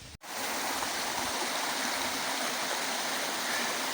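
Flowing stream water rushes steadily and evenly throughout, a close, broadband wash outdoors near a ruined church, with a brief dropout right at the start.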